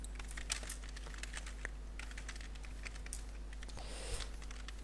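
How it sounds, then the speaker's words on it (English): Quiet, rapid keystrokes on a computer keyboard while coding a login dialog, irregular clicks pattering close by over a low electrical hum. "see, I'm typing"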